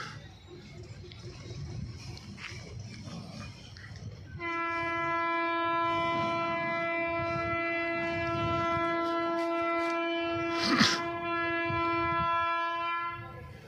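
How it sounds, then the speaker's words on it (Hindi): Tejas Rajdhani Express on the Delhi–Bhubaneswar route pulling into a station, a long steady horn blast sounding loud and near for most of the clip over rumbling rail noise and background chatter. "तो ट्रेन हमारी घुस चुकी है 7 के साथ।"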